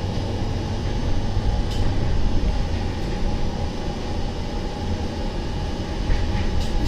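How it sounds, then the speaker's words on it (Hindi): The Howrah Pune Azad Hind Express stands at an Indian station platform with a shunter locomotive coupled on, giving a constant loud, low rumble and hum with a few faint metallic clicks. "प्लेटफॉर्म नंबर 2 पे आई है हावड़ा पुणे आज़ाद हिंद एक्सप्रेस, अभी उसे शंटर लोकोमोटिव जोड़ा गया है।"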